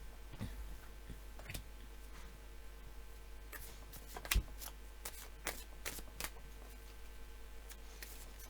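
Oracle cards are shuffled and drawn in quiet, scattered bursts: soft papery flicks and snaps spaced irregularly, one sharper tap near the middle, over a steady low hum, with no talking.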